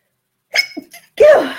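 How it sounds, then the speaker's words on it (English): One loud, close sneeze, a short wind-up breath followed by a sharp burst, from a person sewing indoors. "hopefully that means I won't have to sneeze again"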